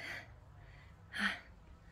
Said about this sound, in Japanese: 走ったから息切れした。